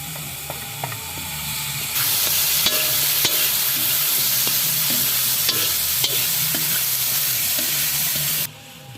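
Peas and carrots sizzle steadily in a hot pan while being stirred for a vegetable dish, with a dense frying hiss and repeated light scraping clicks of the spatula, then a sudden drop as the sizzle quiets.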